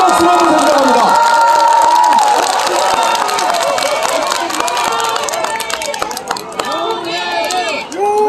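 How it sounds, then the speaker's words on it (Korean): A large crowd at an outdoor political campaign rally near a subway station cheers and claps loudly, with shouts and whoops over a dense roar while a voice echoes over loudspeakers. "큰 박수로 한번 부탁드립니다."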